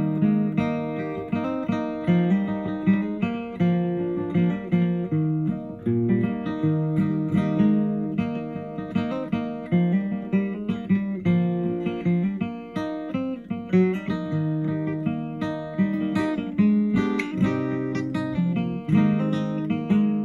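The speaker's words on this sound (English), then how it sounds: "that's the sound of Wyatt's guitar" Solo guitar serenade recorded at home, about 35 seconds long, with steady strummed and picked notes ringing in a warm, close, dry sound. The playing carries on throughout with no talking.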